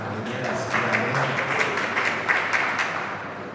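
A church congregation at a youth day service claps, building into a lively round of applause with some cheering, moderately close and fairly even.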